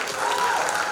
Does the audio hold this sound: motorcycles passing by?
no